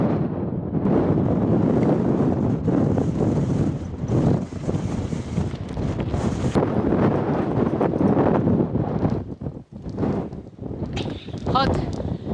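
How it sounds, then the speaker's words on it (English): Strong wind buffets the microphone continuously during bikepacking in hot, windy Patagonia, a roaring, gusting rush that fades briefly near the end. "Hot and windy."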